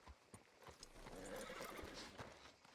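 A horse in Red Dead Redemption 2 clip-clops with steady hoofbeats and gives a whinny, close and fairly loud, with no talk over it.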